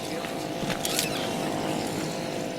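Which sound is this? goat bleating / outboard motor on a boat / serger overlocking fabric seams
outboard motor on a boat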